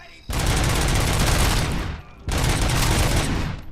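Two long bursts of heavy automatic gunfire in RoboCop: Rogue City, each a loud, dense, continuous roar lasting over a second, separated by a brief pause, close and powerful.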